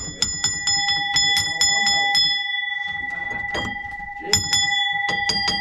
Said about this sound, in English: Are they alarm bells? Yes. Old alarm bells. Like school ones.